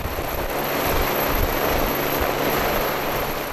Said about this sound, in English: the pilot, he would be arriving by helicopter